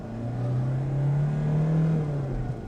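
A diesel engine in a 2012 Hyundai i20 revs up and holds a smooth, steady drone for about two seconds before easing off, close and fairly loud with no speech.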